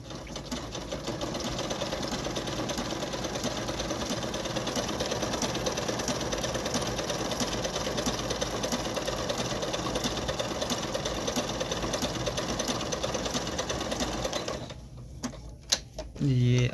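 A Singer SY50 sewing machine runs steadily, stitching an overlock seam with a fast, continuous mechanical whir and tick that stops near the end, while someone talks over it.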